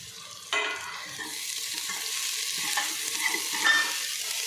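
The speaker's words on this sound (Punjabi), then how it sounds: "ਇਹਦੇ ਵਿੱਚ ਅਸੀਂ ਪਾਵਾਂਗੇ ਇਹ ਲਸਣ ਤੇ ਅਦਰਕ" Finely chopped garlic and grated ginger hitting hot oil in a pan for aloo gobi, a sudden sizzle that holds as a steady close crackle with a few light stirring scrapes, no voices.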